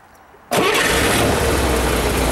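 A 1963 Chevrolet Corvair Monza convertible's engine cranks and fires after a half-second of quiet, catching abruptly into a loud, steady running roar that holds to the end.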